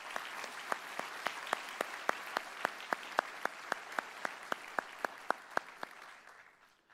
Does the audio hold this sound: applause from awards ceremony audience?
yes